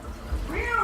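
A person imitates a cat's meow in a short rising, whiny voice, close and fairly loud, against a faint indoor background.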